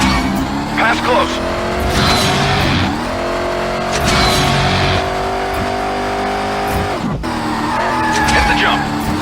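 Car drifting with squealing tires in the video game Stuntman: Ignition: a steady, loud engine drone with rising revs and brief tire screeches throughout, while a voice talks over it.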